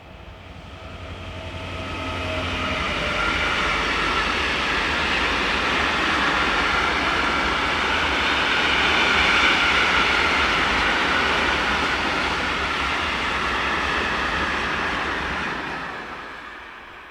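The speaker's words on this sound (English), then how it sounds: "This is a set of empties heading south behind Euro 4000 diesel number 4052." A Euro 4000 diesel locomotive, number 4052, hauls a set of empty stone wagons south, a loud sustained rumble building as it approaches, holding through the pass with a rolling rail roar, then easing away.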